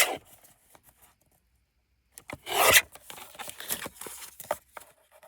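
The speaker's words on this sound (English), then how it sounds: "So what I need to do with this one is trim here." Cardboard from a tea box trimmed for a small upcycled flipbook: a few faint snips, then a loud rasping cut and scrapes of paper being handled, close by with no talk.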